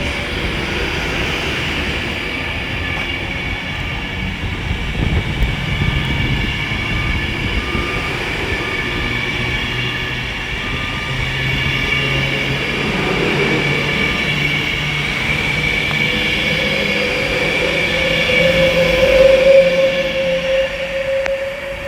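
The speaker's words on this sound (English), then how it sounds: "Now departing is the 1326 Avanti West Coast service from Manchester Piccadilly to London Euston" An Avanti West Coast train, the Manchester Piccadilly to London Euston service, departs Milton Keynes Central on the West Coast Main Line, a steady rumble and hum that slowly swells louder with a rising whine near the end, no voices.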